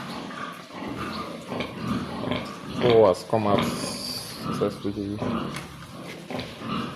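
Pigs on a farm during a piglet birth give soft grunts and snuffling breaths up close, heard intermittently under a person talking.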